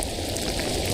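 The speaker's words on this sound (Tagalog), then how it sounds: "Lumakas pa lalo ang ulan." Heavy rain pours steadily and densely, a loud continuous hiss and patter drumming on surfaces close by, with no voices heard.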